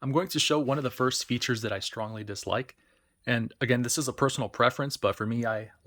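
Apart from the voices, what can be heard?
None of the usual background noises is heard.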